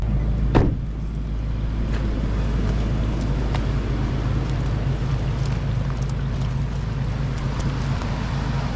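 A 4WD crosses a river at Pheasants Creek in the Victorian High Country, a steady close rumble of engine and rushing water with a sharp splash or thud near the start, wind buffeting the microphone throughout.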